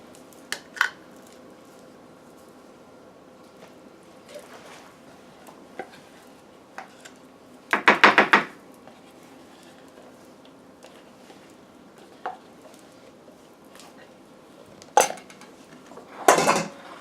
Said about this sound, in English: And we spread that right on top of the beans.